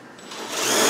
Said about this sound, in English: the drill will probably follow the same hole